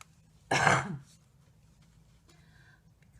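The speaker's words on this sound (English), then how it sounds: "Glad when this cough goes away." A single sharp throat clearing with a rough cough-like burst from someone sick with a lingering cough, close and brief, followed by quiet room sound and a faint scratch.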